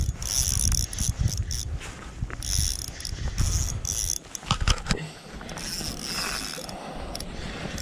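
A Shimano Stradic 1000 spinning reel on a light LRF rod gives loud, continuous rapid drag clicking as a big fish pulls line, with bursts and brief slowdowns, close up and alone.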